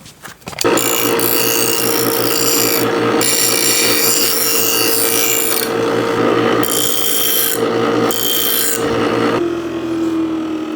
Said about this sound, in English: And then I'll throw it on the grinder.